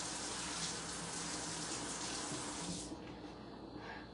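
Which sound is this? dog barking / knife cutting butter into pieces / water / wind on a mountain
water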